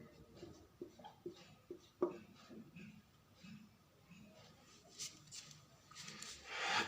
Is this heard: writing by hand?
yes